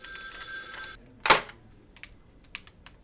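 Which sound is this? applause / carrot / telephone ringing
telephone ringing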